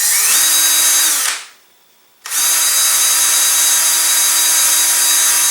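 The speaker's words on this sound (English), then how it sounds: "this is a great time for me to mark and drill the location for the shear pins" A power drill bores holes for shear pins through a 5.5-inch LOC Precision Patriot rocket body tube, where the payload tube joins the booster. Two loud, steady whirring runs are separated by a brief pause.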